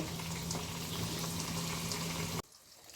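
Hilsa fish paturi wrapped in banana leaf cooks in a pan, giving off a steady, dense bubbling sizzle like boiling liquid that runs unbroken, then cuts off abruptly near the end.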